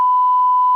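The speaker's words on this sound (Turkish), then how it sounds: "Bu telefon kimin" A mobile phone gives a single steady electronic beep, a clean pure tone held for most of a second before cutting off, close and alone with no talk.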